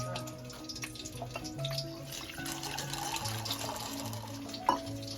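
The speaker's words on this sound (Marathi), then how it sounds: "नंतर एक पाणी ओतून घेतलं" Water pouring into a pan of oil and garlic with a steady, fairly quiet splashing rush over soft background music.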